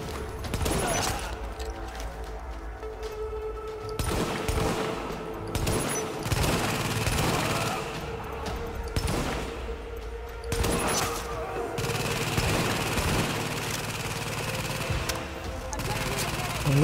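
Gunfire in Tom Clancy's The Division in the Lincoln Tunnel, with repeated bursts of rapid shots and loud booming volleys across the stretch, and someone talking over parts of it.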